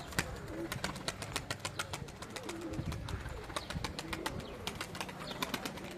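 Tumbler pigeons in a Turkish pigeon loft flap their wings in repeated sharp bursts close by, with soft cooing and background voices talking underneath.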